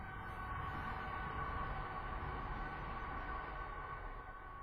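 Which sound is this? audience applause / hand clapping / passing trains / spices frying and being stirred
passing trains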